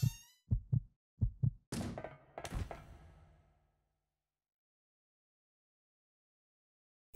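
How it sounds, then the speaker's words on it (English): A heartbeat in the video game Resident Evil Code: Veronica thumps out several low, paired beats in a steady rhythm, then gives way to a burst of broader game noise that fades into silence. "there was also the heart beating as well"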